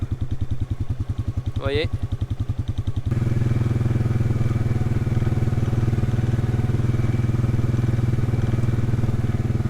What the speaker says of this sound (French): Et puis là pour le coup, le quad a son utilité.